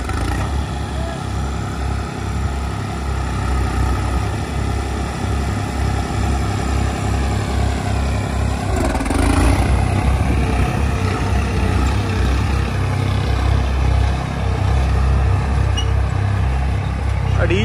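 Two New Holland tractors, a 5620 and a 3630, run side by side in second high gear at about 1200 rpm, giving a steady, loud diesel engine drone throughout while someone talks over it.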